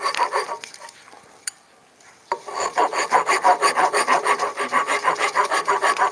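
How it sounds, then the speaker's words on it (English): A farrier's rasp files a wooden handle for an antique axe in a steady run of rhythmic rasping strokes, close and loud, after a brief pause with a few knocks near the start. "This is like a farrier's rasp right here."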